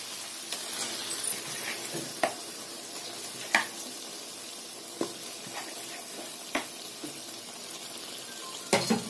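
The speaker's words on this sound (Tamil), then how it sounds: "மேரினேட் பண்ணி வச்சிருக்கேன் அந்த சிக்கனை வந்து போட்டுடலாம்" Marinated chicken dropped into a tomato gravy whose oil has separated, frying with a soft continuous sizzle broken by a few sharp clinks and splashes from a spoon or pan, all close and fairly quiet.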